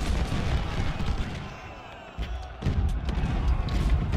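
Massed troops firing in the Civil War strategy game Ultimate General Civil War: a continuous rumble of musketry and booming volleys, dipping briefly and then swelling again, heavy and dense.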